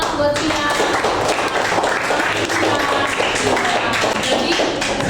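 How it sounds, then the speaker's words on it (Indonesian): A classroom of students claps for a classmate, a busy burst of close, sharp hand claps with uneven rhythm, continuing steadily with some light thumps mixed in. "tepuk tangan buat Cia."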